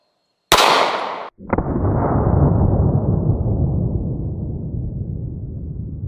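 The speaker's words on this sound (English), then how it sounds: "The first gun we're gonna use is a Kel-Tec PMR 30 chambered in 22 Magnum" One loud, sharp shot from a Kel-Tec PMR 30 pistol in 22 Magnum firing a 40 grain round is followed by a long, fading rushing noise.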